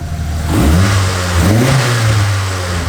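An old turbocharged Mitsubishi Lancer engine revs up twice in quick succession, loud and close, its pitch rising and falling before settling back toward idle.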